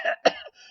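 A female character's hacking cough, voiced by an audiobook narrator: two short harsh bursts followed by a strained, raspy tail, close and alone.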